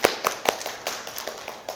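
Scattered hand claps from a small church congregation welcoming a new young member, a few sharp separate claps, fairly quiet and close, with no talking.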